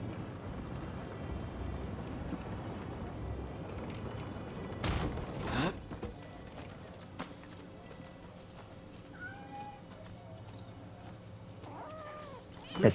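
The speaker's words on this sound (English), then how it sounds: "It's a kitty." A kitty in Rise of the Ronin gives a few faint, soft meows late on, after a stretch of muffled ambient noise and a couple of sharp bumps.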